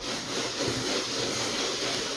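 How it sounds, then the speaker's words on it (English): Light sanding with 120 grit sandpaper across a spray-painted countertop, a steady soft scratchy rasp that runs continuously and fairly quietly with no pauses. "we're just doing a very light sanding with some 120 grit"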